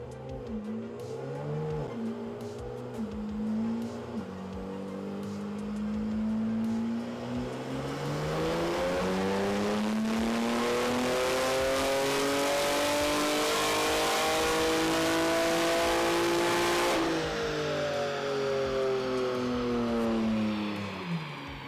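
A Stage 2 tuned BMW G87 M2 on pump 91 octane makes a dyno pull, its engine revving steadily up through the gears to a loud sustained roar before easing off.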